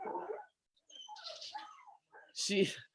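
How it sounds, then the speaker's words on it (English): A household dog whimpers and gives short yelps in several bursts, including a louder, higher cry near the end, with gaps of quiet between them, fairly close indoors. "Excuse our dog."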